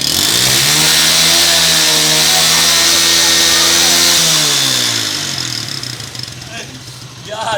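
A motorcycle fitted with a modified silencer revs loudly up close, its engine note rising and falling in a steady buzzing drone before settling toward idle.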